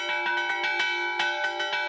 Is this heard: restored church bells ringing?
yes